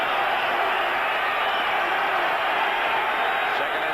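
A Denver stadium crowd at a 1985 NFL game between the Dolphins and Broncos, a steady broad roar that holds at the same level throughout.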